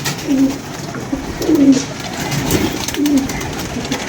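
Pigeons coo close by, three low, soft calls at an even rhythm over a light background hum, with faint voices around.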